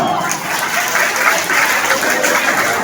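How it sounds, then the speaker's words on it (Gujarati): An audience at a Shri Krishna Pranami temple auction for a matki-phod bid claps together in a dense, sustained round of applause, fairly loud, with some voices underneath. "જેમ રમા મમ્મીના કાન ખુલી જાય તાળી વગાડો"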